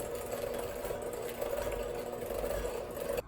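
An electric mixer creaming butter and sugar in a large bowl, a steady whirring motor hum with slight rattle, close and continuous, cutting off at the end.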